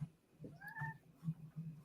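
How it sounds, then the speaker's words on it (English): A single faint, thin cat meow rises and falls once against a quiet background. "I heard that pathetic little meow."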